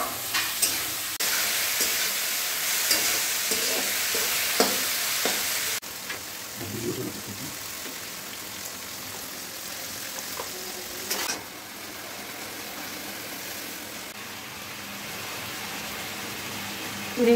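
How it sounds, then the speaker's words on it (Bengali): Chopped onion frying in a pan gives a loud, continuous hiss and crackle with a few stirring clicks, then drops to a softer steady sizzle, with brief faint voices in the background. "প্রথমে পেঁয়াজটা একটু কুচি কুচি করে কেটে নিয়েছি, তো সেটাকে একটু ভেজে নিচ্ছি।"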